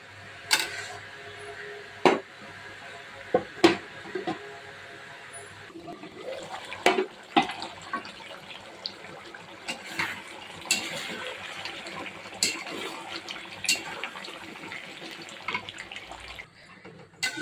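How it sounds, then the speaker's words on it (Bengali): Water pours and splashes into a pot of chicken curry for a long stretch, broken by occasional sharp clinks of utensils nearby. "কষানো পানি দিয়ে দিলাম।"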